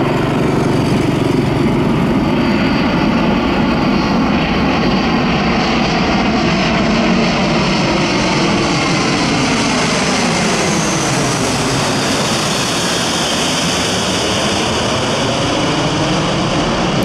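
Loud, continuous roar of C-17 military transport aircraft engines heard from directly beneath the fuselage, a steady powerful drone with rising whine, no talking.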